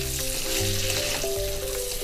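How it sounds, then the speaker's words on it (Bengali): Butter melting in a pan for a chicken black pepper dish sizzles and fries steadily throughout, a close, continuous crackle with no voices. "দেখুন আমার এখানে বাটারটা গলে গেছে"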